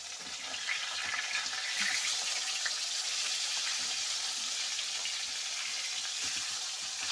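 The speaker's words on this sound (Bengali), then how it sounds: "মাছগুলো কিন্তু এক পাশ ভাজা হয়ে গেছে, আমি এবারে একটু উল্টে পাল্টে দেব" Rupchanda fish fry in hot oil with a steady, bright sizzle that fills the whole stretch, close to the pan with small crackles and shifts as the pieces are turned.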